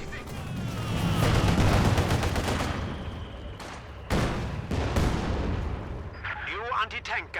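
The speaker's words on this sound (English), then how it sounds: "that is a heavy mortar from Slafter" A heavy mortar barrage in the video game Company of Heroes 2 pounds away in a rolling series of loud booming blasts and crackling impacts, with a voice talking over the battle.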